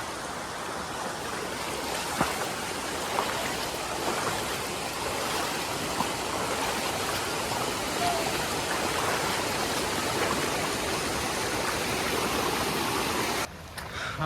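Hidden village waterfall heard from the approach, a steady broadband rush of falling water, constant and moderately loud at a distance, with no talk.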